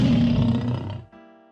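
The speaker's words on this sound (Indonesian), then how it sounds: "lalu mengaum nyaring di telinga beruang besar itu." A lion roaring loudly in a storybook scene inside a stone cave, one long powerful roar that fades and is followed by a lingering tonal sound.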